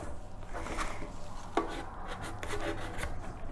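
A squeegee rubs adhesive vinyl down onto a metal mailbox, a steady close scraping and rubbing with a brief sharper squeak midway.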